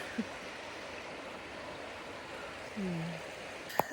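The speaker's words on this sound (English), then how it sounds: "The Chattooga River. And that noise over there was so nice as background noise to sleep to." The Chattooga River flows near a campsite, a steady, soft wash of water running evenly throughout, with a couple of faint brief sounds on top and no talking.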